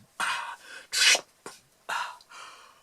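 A spade digs into field soil between tiered trees, giving four separate rasping, scraping thrusts spaced about half a second apart, fairly close and alone.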